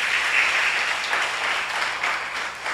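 A church congregation at a Brazilian cell-group congress breaks into loud, sustained applause, a dense wash of many hands filling the room without pause.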